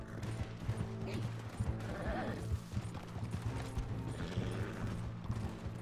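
Horse hooves clip-clop in an irregular gallop, with a neigh and whinny and some clanking tack in Red Dead Redemption 2, heard fairly faint in a game scene with background music.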